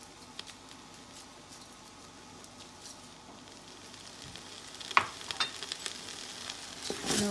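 Soya chunk chowmein with green chili and chowmein seasoning sizzles and fries in a pan while being stirred, with a steady low crackle and a few louder scrapes and clatters near the end.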